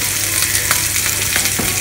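Chicken tikka fries in a pan on a gas stove, giving a loud, steady sizzle with short crackling bursts and stirring scrapes throughout, and no voices.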